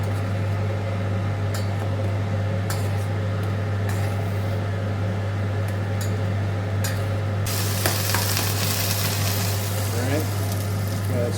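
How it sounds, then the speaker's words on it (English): Beef shank pan-searing with mustard sizzles steadily and close throughout, a continuous frying hiss over a constant low electrical hum. "we're going to go ahead and let this brown for probably 2 to 3 minutes per side"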